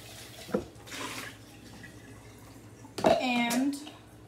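Tap water runs briefly into a container being rinsed out, a short splashing burst in a kitchen, with a voice speaking near the start and again over the running water.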